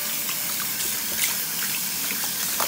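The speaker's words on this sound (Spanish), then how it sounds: "y le vamos a poner agua caliente, un poco caliente, tibia caliente," Warm water gushes steadily from a container over raw chicken pieces in a bowl to wash them before making tamales, a close, continuous splashing pour lasting a few seconds.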